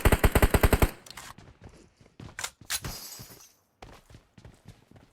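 Loud, rhythmic automatic burst of about eight shots in PUBG Mobile, followed by scattered sharper cracks and impacts fading into quieter gaps.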